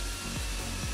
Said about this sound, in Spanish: Yo estoy utilizando una lijadora de banda